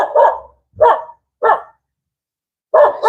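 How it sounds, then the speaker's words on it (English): Loud, close barks from a stray dog come singly and spaced apart, three in a row, then a gap and one more. "Hold on, there's a dog."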